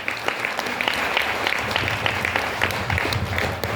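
A crowd at a group business meeting gives itself a hearty round of applause, a continuous, fairly loud wash of clapping with some sharper individual claps standing out, and no talking.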